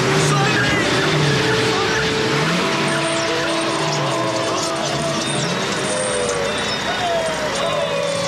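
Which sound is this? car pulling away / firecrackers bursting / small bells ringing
car pulling away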